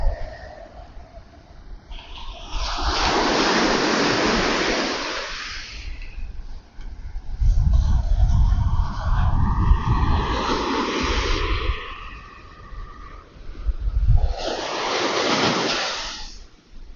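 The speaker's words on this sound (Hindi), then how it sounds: "लहरों की आवाज बड़ी शानदार है।" Ocean waves surge and break on a wet sandy beach along the Tamil Nadu coast, each swell building into a loud broad wash that rolls in and recedes, repeated several times over steady wind noise.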